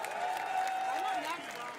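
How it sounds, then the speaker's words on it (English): Applause and cheering from a rally crowd of film and TV crew union members for the musicians' union president, a steady dense wash of clapping over about two seconds with faint voices mixed in. "Let's give another round of applause for the president of the musicians"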